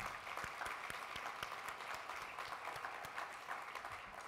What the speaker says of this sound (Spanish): les pido un primer gran aplauso para ustedes